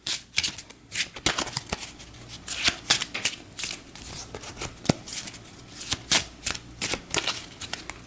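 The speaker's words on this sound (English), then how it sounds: "So we'll give the corner man deck a shuffle." A deck of cards for the Title Bout II boxing board game is riffle-shuffled repeatedly, producing close, crisp bursts of rapid flapping clicks with brief gaps between them.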